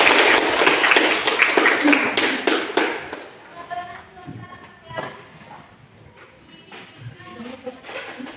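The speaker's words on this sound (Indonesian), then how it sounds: "Ini tepuk tangan buat kelompok 1." Classroom applause for a student presentation group, a dense burst of many hands clapping for about three seconds, then fading into scattered taps and murmured voices.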